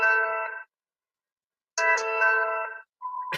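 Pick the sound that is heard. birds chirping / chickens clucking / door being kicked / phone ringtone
phone ringtone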